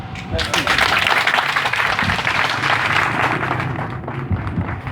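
Applause from an audience at a political gathering in Kissidougou, Guinea, a continuous wash of clapping that stays loud and steady then eases slightly, with voices talking over it.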